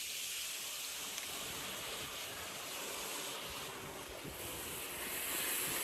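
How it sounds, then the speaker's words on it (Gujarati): Strong wind blows steadily outside a house that stands among jungle-like growth, a loud continuous roar buffeting the microphone throughout, with no talking. "અને પવન તો જોરદાર આવે છે"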